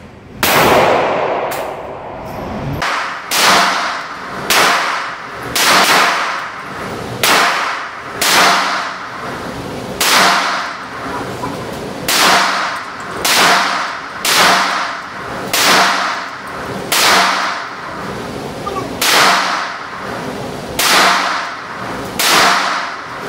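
Rapid series of sharp, loud gunshots from a handgun firing Winchester .357 SIG 125 grain ammunition, roughly one crack per second in a steady rhythm across the whole stretch, close and without talk.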